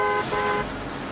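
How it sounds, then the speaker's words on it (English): A car horn honks once in a dramatized scene, a short bright blare lasting about half a second before fading into the background hum, with no talking. "that honking for you, Miss Lindstrom?"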